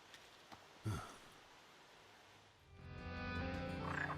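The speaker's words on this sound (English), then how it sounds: "The rainbow frogs of legend!" Rainbow frogs croak in the game Final Fantasy XV: a brief bump near the start, then a steadier, buzzing chorus of croaks rising over low ambience in the second half, moderately close and alone.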